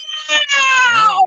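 A human voice imitates a cat's meow, a single drawn-out, rising-then-falling mew lasting about a second, loud and close, on a call-in talk show.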